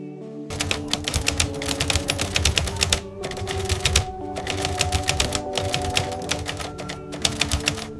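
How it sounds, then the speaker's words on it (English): A 1950s Smith Corona manual typewriter typing in rapid bursts of crisp, clacking keystrokes with short pauses between runs, close and alone. "This is a Smith Corona manual typewriter from the 1950s"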